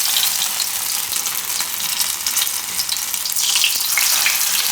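Sabudana and green pea tikki fry in a pan over low heat, giving a steady, close, bright sizzle with crackling bursts that carries through the whole stretch, with no voices.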